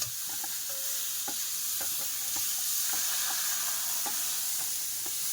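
Food stir-fried in a pan in a home kitchen, a constant loud sizzle with repeated scraping and knocking strokes of a stirring utensil at an uneven rhythm, close by and without talk.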